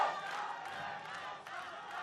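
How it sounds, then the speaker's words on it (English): Crowd of fans and team members cheering and shouting continuously at a Junior GP motorcycle race podium ceremony in Valencia as trophies are handed out, a loud, steady roar throughout. "Crowd and the fans and the team all supporting Almanza then as the trophies are handed out."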